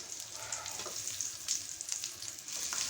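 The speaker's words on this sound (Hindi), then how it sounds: "ये कबाबों का काम है जो मैं अब कर रहा हूँ, यानी कि इनको फ्राई कर रहा हूँ" Beef shami kebabs frying in oil, a quiet, even sizzle with faint bubbling crackles, close but low in level.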